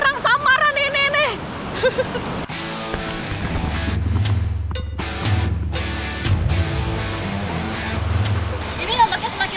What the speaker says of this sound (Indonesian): Ini ombaknya semakin lama tuh semakin besar